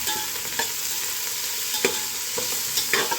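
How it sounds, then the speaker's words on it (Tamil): Sliced big onions sautéing in a pan for a donne chicken biryani, with a steady sizzle and a few sharp scrapes of a stirring spoon; no talking. "பெரிய வெங்காயத்தை ஒரு டூ டு த்ரீ மினிட்ஸ் வந்து இதை நல்லா வதக்கி எடுத்துக்கலாம்"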